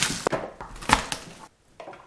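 A knife chops carrots, celery, onion and garlic on a board in a kitchen: a few sharp, close thuds with short scraping sounds between them, then a brief pause and one more cut.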